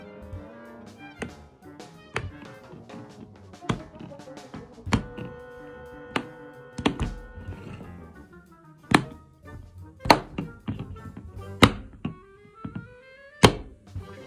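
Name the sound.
fidget toy being tapped and pressed, loud clacking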